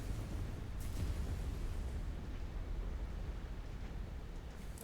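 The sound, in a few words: explosions in MechWarrior 5 video game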